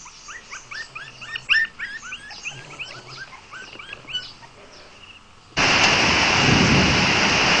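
Heavy rain pours outside during a thunderstorm, bursting in as a loud, steady roar partway through after a quieter stretch of scattered high chirping calls.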